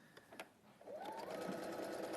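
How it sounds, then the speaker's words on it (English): A sewing machine stitches fabric along a quarter-inch seam, beginning after a few faint handling clicks and then running as a steady, quiet mechanical whir. "I'm going to take this straight to my sewing machine."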